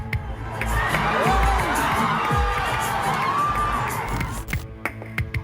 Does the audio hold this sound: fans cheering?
yes